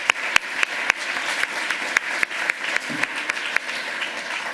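Applause from a conference audience after a short lightning talk at a hacker congress. Dense clapping is punctuated by a few loud, sharp claps close to the microphone, steady throughout with no talking.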